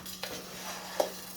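Rice toasting in a pan on medium-low heat is stirred, giving a faint scrape with two brief clinks of spoon against pan over a soft, steady sizzle.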